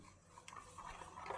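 Spoon stirring rice batter mixed with salt, fennel paste and ginger paste, a brief soft scraping and swirling close by, faint and alone.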